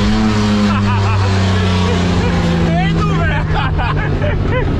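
Ferrari engine revving hard under acceleration, loud and close with a rising roar and shifting pitch, people talking excitedly over the engine throughout.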